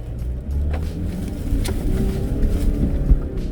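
A Mitsubishi L200 pickup climbing a steep slope, its engine rumbling low and steady, then rising slightly as it accelerates, with some wind and road noise close by.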